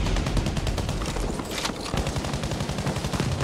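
A medium machine gun fires sustained rapid automatic bursts in the video game Battlefield V on PlayStation 5, loud and close with a steady dense rhythm and a brief dip partway through.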